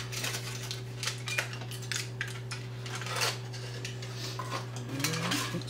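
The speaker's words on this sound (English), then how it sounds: "Taking this foil off." Aluminum foil being peeled off a baked dish of clams stuffed mushrooms, close crinkling and rustling crackles with light clatters of the pan over a steady hum.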